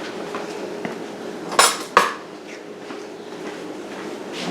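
Metal cutlery rattling and clinking in a kitchen drawer as a knife is grabbed while making a corn-free pecan pie, two sharp close clanks amid quiet shuffling.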